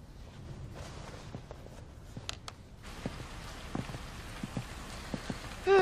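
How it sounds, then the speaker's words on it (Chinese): Gentle rain falls steadily outdoors, a soft continuous patter with scattered nearer drips and small taps, quiet and alone. "下雨天空气还挺清新的。"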